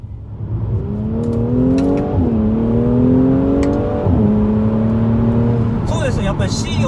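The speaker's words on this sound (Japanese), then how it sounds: "このようにかなり激しいマフラー音がいたします。" A 2016 Mercedes-Benz C450 AMG 4MATIC's exhaust revs hard while driving: a loud, steady engine drone climbs in pitch, with brief dips at the gear shifts around two and four seconds.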